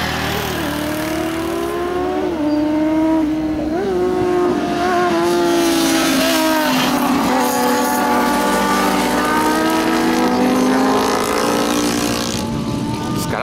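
Engines rev and drone continuously as several cars race by close up through the S-curve road in Amparo, São Paulo, Brazil, pitches rising and falling with each pass.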